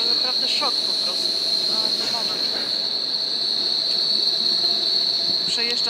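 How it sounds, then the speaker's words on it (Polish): A tram rolls past in Berlin with a steady metallic rattle and a high, constant whine, traffic-like rumble filling the whole stretch. "Przejeżdża tramwaj, który hałasuje."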